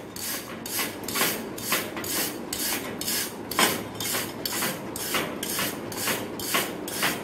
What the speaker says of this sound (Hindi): सफाई करन दे वास्ते असी बार ब्रश का इस्तेमाल करांगे।